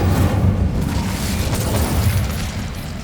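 An Incendio fire spell in the game Hogwarts Legacy bursts with a deep rumbling whoosh, loud and close at first and then easing into a sustained roar, with no talking.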